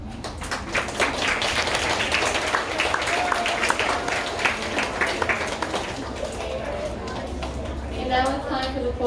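A school audience claps steadily for several seconds, dense and sustained, while a voice speaks over it.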